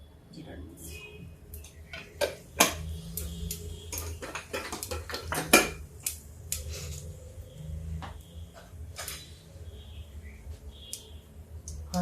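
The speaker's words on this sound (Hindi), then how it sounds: "हाँ, जीरा तड़क गया।" Cumin seeds crackle in hot oil while tempering kevati dal in a home kitchen. Irregular sharp pops and clicks of varying strength play over a low hum, with a voice talking intermittently.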